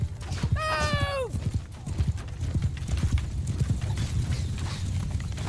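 Cavalry horses gallop in a Mount and Blade Bannerlord battle, with a quick rhythmic clatter of hooves running through the whole clip. A single horse whinnies loudly near the start.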